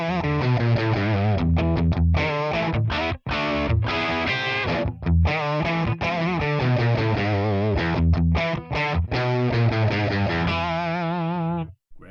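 Distorted electric guitar played through a ToneX ONE Dime amp capture with no reverb, a dry, punchy rock tone with chugging chords and short gaps, loud and close, no talking.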